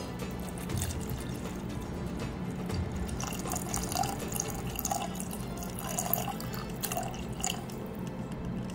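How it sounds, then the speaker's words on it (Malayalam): A cup of water goes onto roasted onion, ginger and green chilli in a pan, giving a soft, steady pouring and bubbling hiss that stays quiet and continuous. "റോസ്റ്റ് ചെയ്തതിന് ശേഷം ഒരു കപ്പ് വെള്ളം ഒഴിച്ചു"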